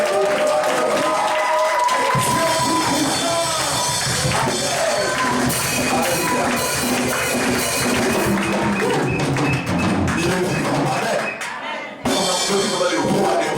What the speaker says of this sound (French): Applaudissons vraiment les seigneurs et les seigneurs.